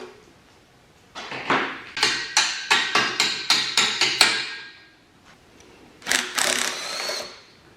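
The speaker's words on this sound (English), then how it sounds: "I might have to just hammer that in just so it doesn't" Hammer blows driving in an engine oil pan bolt during a 1988 Ford Mustang rebuild: a steady run of about eight sharp metallic strikes, then a pause and one or two more close, loud hits.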